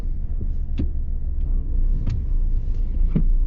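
A Skoda Octavia mild-hybrid sits at idle, its engine giving a steady low rumble with a slight vibration, close and continuous, with a few faint clicks over it and no voices.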